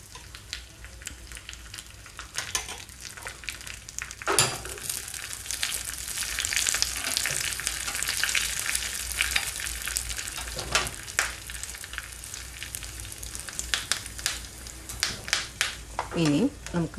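Dried red chillies and curry leaves sizzle hard in hot oil for a Kerala tomato curry tempering, with a sharp, loud burst of spitting midway and continuous crackling and stirring, and a voice near the end.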